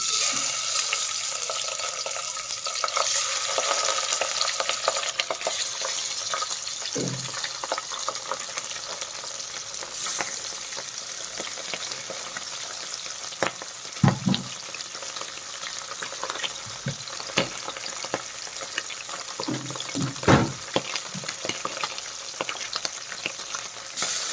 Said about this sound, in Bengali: এখন তেলটা একটু গরম হয়ে গেলে আমি মাছটা দিয়ে দিচ্ছি।